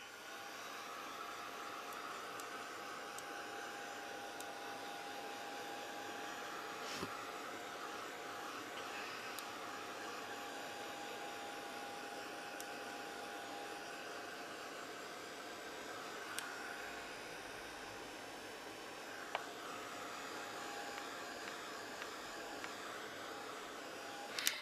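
A heat tool blows a steady, even whoosh of hot air to dry ink on a mixed media butterfly artwork, running continuously with only a few faint clicks and no talking.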